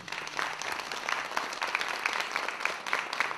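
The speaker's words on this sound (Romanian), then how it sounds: "pe care vă rog să îl aplaudați" An audience at a Romanian folk music and dance show claps steadily for a professional folk ensemble, many hands at once forming a dense, continuous patter of applause that holds at a fairly even level.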